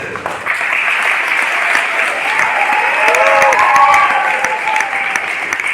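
Loud, sustained applause fills an event hall during a faculty introduction, with steady dense clapping and excited voices calling out underneath.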